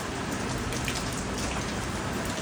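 Heavy rain pours down in a steady, dense hiss of drops striking surfaces, loud and unbroken throughout with no voices.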